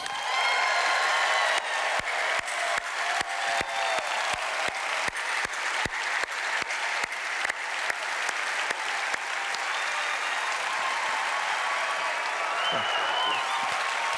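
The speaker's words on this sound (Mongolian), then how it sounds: "Энэ танхимын хан тургыг дөргиосон алга ташилтаар миний найзыг угтан авцгаая." Loud, dense applause from an audience filling a concert hall at a Sing Global gospel concert, steady clapping sustained throughout without a break.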